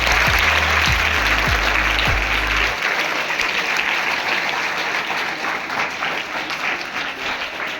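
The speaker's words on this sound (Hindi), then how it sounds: "तो इसलिए जोरदार अपने आप के लिए तालियां बजाओ।" An audience at a Kargil Vijay Diwas commemoration bursts into loud, sustained applause that fills the room, with a few deep thumps at the start before the clapping carries on steadily to the end.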